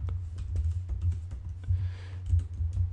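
Close, steady clicking of keys on a computer keyboard as code is typed, with a brief soft burst of rustle midway and no talking.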